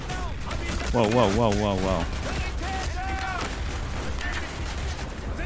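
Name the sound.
gunfire from a gun in the video game Call of Duty Black Ops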